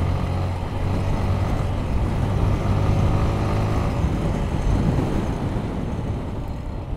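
A car's engine runs steadily during a test drive, heard as a constant low rumble mixed with road and wind noise from inside the moving vehicle, with no talking.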